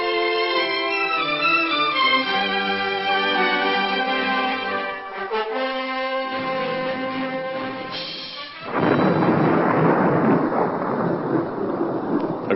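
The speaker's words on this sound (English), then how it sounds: "Looks like we're in for a bad storm." A radio drama's thunderstorm effect begins with a deep rumbling roll of thunder and then breaks into a steady, loud wash of rain and storm noise with no voices.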